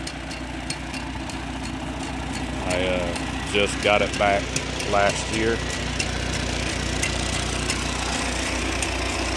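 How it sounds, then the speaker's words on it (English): A 1952 Farmall Cub tractor engine idles with a steady low throb beneath someone talking nearby. "This is a 52 Farmall Cub. This is my granddad's tractor."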